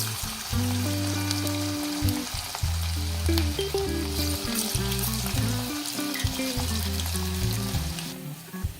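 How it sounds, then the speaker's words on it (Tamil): Oil sizzles and crackles steadily and loudly as cauliflower fries close by, with a continuous bubbling hiss throughout. "இப்போ இந்த எண்ணெயில் ஒவ்வொன்றா நம்ம வந்து சேர்த்துடலாம்"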